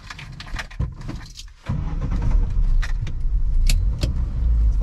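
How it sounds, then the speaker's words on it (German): A Lada Niva towing a Bastei caravan moves off slowly on an offroad race track; a low engine rumble swells and then holds steady, heard from inside the car with light rattles and knocks over the drone. "Jetzt fahren wir erstmal eine langsame Runde."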